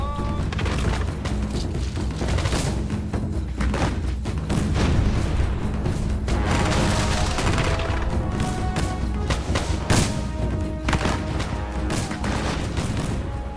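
Musket and cannon fire at the Battle of North Point near Baltimore in the War of 1812, a dense continuous fusillade with booms and crackling volleys throughout, loud and steady, mixed with a busy battle soundscape.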